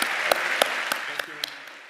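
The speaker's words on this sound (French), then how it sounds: "Applaudissons Elon Musk, tout le monde." Audience applause for Elon Musk, a dense steady patter of many hands with a few sharp louder claps standing out, fading slightly toward the end.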